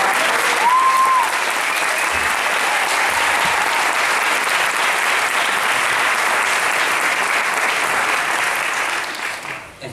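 A large audience at a convention event applauds steadily for about ten seconds in a dense, loud wash of clapping that fades at the very end.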